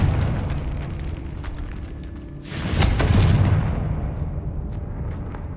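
A spell-triggered explosion in a Harry Potter-style wizarding video game bursts with a loud broadband boom around the middle, then a rumbling decay, over steady game ambience.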